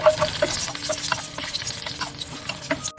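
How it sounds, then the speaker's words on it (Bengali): Two garlic cloves fry in hot oil, a steady close sizzle with crackling pops and the scrape of stirring throughout, no voices. "আমি একই তেলে দুই কোয়া রসুন ভেজে নিব লাল লাল করে"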